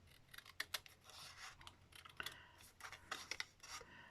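Scissors snip and trim paper for a junk journal storage box, a series of quiet, close, crisp cuts and rasping slides in an irregular rhythm, with no talking.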